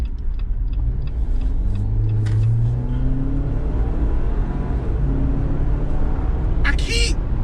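The 2.0 turbo engine of a 2019 Jeep Wrangler Unlimited revs up and falls back in several quick rising sweeps over a constant close rumble, with a voice speaking over it.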